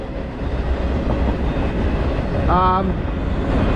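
A CPKC intermodal manifest freight train rolls past on the line, a loud, steady rumbling roar with rail clatter throughout and a brief squealing tone partway through, no voices.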